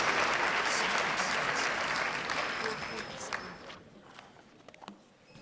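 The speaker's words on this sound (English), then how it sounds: "let's give the 5th graders a round of applause" An audience claps for 5th graders at a school academic bowl, a loud, dense round that gradually thins into scattered final claps and quiet room noise.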